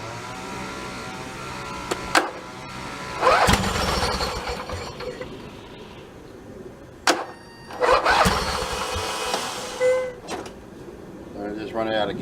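A YTH2454 lawn tractor engine after a carburetor rebuild cranks in several bursts with ratcheting mechanical clatter, catching briefly between quieter pauses; people talk nearby.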